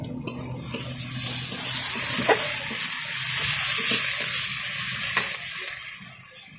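Onions sizzle in hot oil with a steady, close hiss and occasional crackles and pops.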